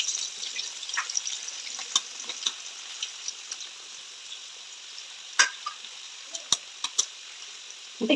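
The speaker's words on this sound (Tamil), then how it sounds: "தனியாக பாத்திரம் வச்சு தனியாக முட்டையை வந்து ஃப்ரை பண்ணி எடுத்துக்கலாம்." An egg sizzles in hot oil in a separate pan for fried rice, a steady hiss broken by scattered sharp pops and crackles, close up with no voices.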